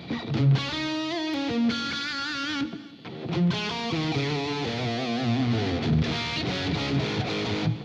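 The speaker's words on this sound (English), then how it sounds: "you want distortion and stuff on here" A distorted electric guitar plays sustained chords and riffs loudly through a poor-quality amp, a brief dip midway before it resumes.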